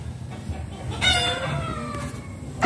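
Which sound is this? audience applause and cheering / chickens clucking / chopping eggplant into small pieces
chickens clucking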